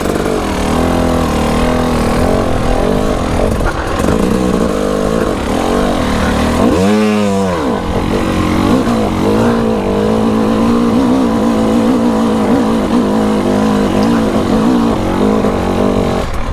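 Husqvarna TE300i dirt bike engine droning steadily and loud while climbing a hill, with a brief rising-and-falling rev surge partway through before settling back into a continuous throttle hum.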